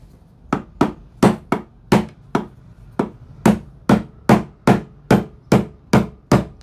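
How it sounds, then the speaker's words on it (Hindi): A hammer striking a screwdriver wedged into a car ECM casing to pry it open: about fourteen sharp, loud, close blows in a steady rhythm, with brief pauses between a few of them. "यहाँ रख के आपको थोड़ा सा पेचकस को मारना है ठीक है ना जब तक अंदर ना जाए"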